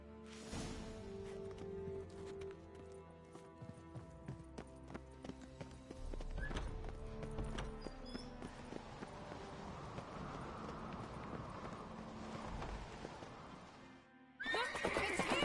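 Horses trot with rhythmic clip-clopping hooves and neigh in the video game The Witcher 3, hooves steady and close through most of it, with a sharp whinny near the end.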